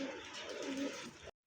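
German Beauty pigeons coo softly, a low throaty rolling call at close range lasting about a second before cutting off abruptly.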